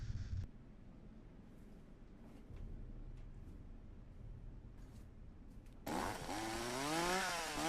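Chainsaw from the horror video game Cursed Digicam, a quiet rough buzzing that rises at the end into a loud, wavering rev; no voices are heard.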